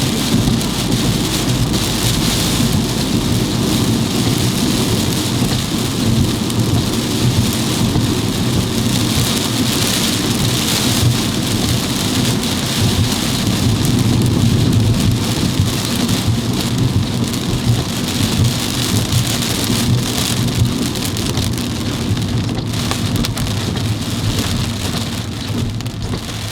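Heavy rain from a sudden downpour pours down steadily and loudly throughout, a dense continuous hiss of drops with a low rumbling undertone and no voices.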